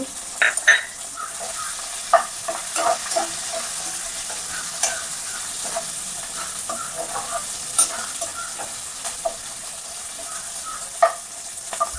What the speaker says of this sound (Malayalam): നന്നായിട്ട് ഇളക്കി കൊടുക്കുക. കുറച്ച് കരിവേപ്പില ഇട്ടേക്കാം.